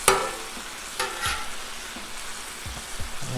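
Ham sizzles steadily on a hot Blackstone griddle, broken by several sharp spatula scrapes and taps against the metal surface, close and fairly loud with no talking.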